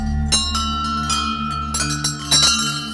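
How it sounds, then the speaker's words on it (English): Temple bells ring at a place of worship, with repeated struck tones sustaining and overlapping, several fresh strikes landing over a steady ringing drone, fairly close and loud. "I didn't realize the significance of bells, especially around temples and places of worship."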